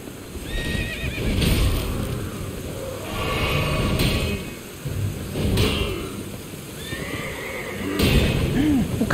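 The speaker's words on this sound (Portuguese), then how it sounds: "O cavalo ataca." A horse neighs several times over a busy game soundscape in Elden Ring, with hooves clopping and rumbling effects underneath; loud and close.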